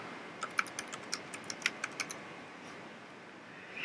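Close, crisp keystrokes on a computer keyboard as a file name is typed, roughly a dozen quick taps in an uneven burst over the first two seconds before falling quiet.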